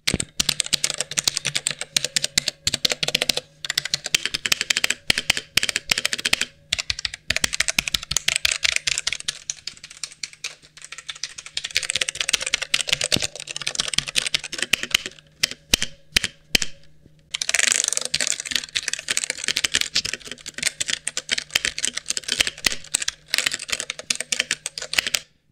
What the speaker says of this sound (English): Let's see how the Redragon K550 Yama sounds when typing.